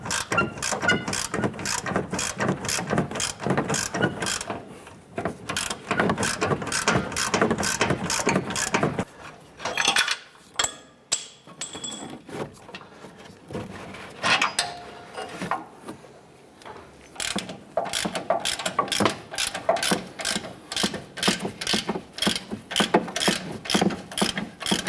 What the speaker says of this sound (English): we're going to switch over to our ratchet